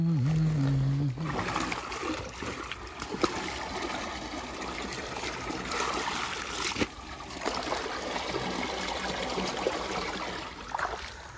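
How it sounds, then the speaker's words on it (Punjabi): Irrigation water runs steadily into a rice paddy, a continuous trickling, gurgling flow heard outdoors at moderate level, with a brief low hum at the very start. "ਥੱਲੜੇ ਚੌਲਾਂ 'ਚ ਪਾਣੀ ਛੱਡ ਲਿਆ"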